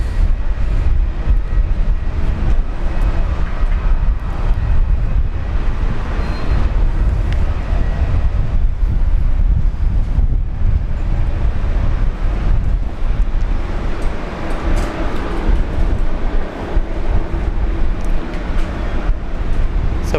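Strong wind blows steadily across an open outdoor spot at Brisbane Airport, a loud, continuous low rumble of buffeting air on the microphone that swells and eases slightly throughout, with no talking.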